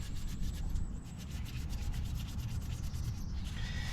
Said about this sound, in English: I'm just taking some Scotch brake pad to them